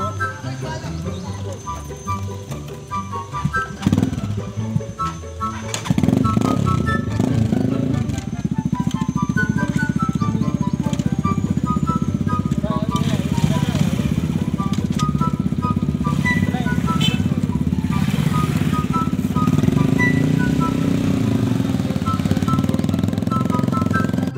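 A motorcycle engine starts up and runs with a rough, throbbing rumble, revving as it rides; voices talk over it at times.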